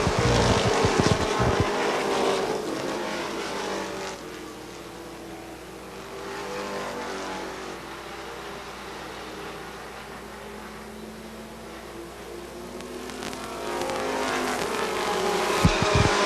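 Stock cars racing at Beech Ridge Motor Speedway in the 1988 ACT New England 300 weekly racing, a continuous roar of many engines passing at a distance, swelling and fading steadily throughout.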